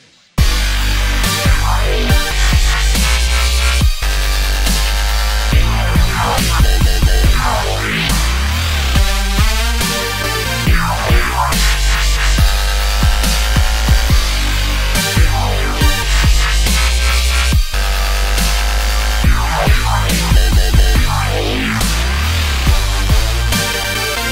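Loud, heavy dubstep bass wobbles and growls pulse continuously with aggressive, shifting tones and punchy drums, no voices present.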